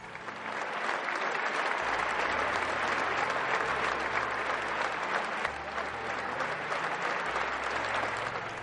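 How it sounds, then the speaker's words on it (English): Sustained applause from a huge crowd of mourners at Pope John Paul II's funeral, a thick continuous wash of clapping that stays loud and even throughout, with faint crowd noise beneath. "They continued to clap."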